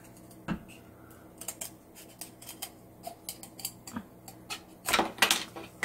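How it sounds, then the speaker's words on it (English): Scissors snip a wooden popsicle stick in half, a few sharp close clicks and crunching cuts, the loudest near the end, with quiet background between snips. "The first thing you want to do is cut your popsicle stick in half."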